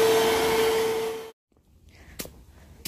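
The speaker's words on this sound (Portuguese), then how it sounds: "Agora tá todo mundo limpando e eu vou passar aqui o aspirador." A vacuum cleaner runs near a door with a steady whining hum and airy hiss, then switches off abruptly, leaving faint room noise and a couple of brief clicks.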